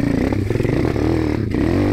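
A 190 dirt bike engine revs steadily and loudly up close while the bike is ridden in first gear over small banks, its pitch wavering slightly with the throttle.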